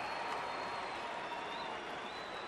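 A baseball stadium crowd in the 7th inning roars steadily, a dense, continuous wash of cheering and noise, pleading for the final out.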